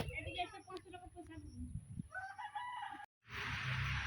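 A chicken clucks and a rooster crows in a village yard, the calls faint, with people talking nearby and a brief dropout before a louder rustling noise.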